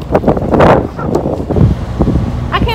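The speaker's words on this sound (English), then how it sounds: "It's really windy out here." Strong outdoor wind buffets the microphone with loud, uneven gusts and rumbling. A voice is briefly audible near the end.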